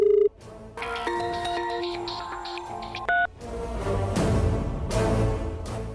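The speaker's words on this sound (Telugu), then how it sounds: "నీకు ఫోన్ వస్తుంది చూడు." An incoming call sets off a phone's ringtone, a clear electronic melody of sustained tones that plays for a couple of seconds before fuller background music takes over.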